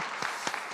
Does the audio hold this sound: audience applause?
yes